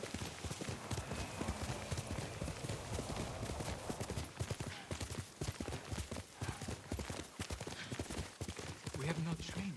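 A horse galloping in Ghost of Tsushima, fast, heavy hoofbeats drumming steadily up close, with a rider's voice speaking briefly over the run.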